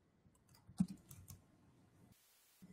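A computer keyboard clatters with a short burst of quiet, close keystrokes, one key striking harder, then a pause before a final tap.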